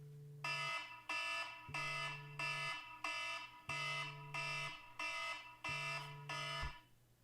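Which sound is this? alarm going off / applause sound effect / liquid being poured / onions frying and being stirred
alarm going off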